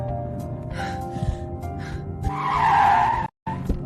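A car pulls over to the roadside with a swelling tire skid and squeal, cut by a brief moment of silence, then faint movement sounds, all close and loud without speech.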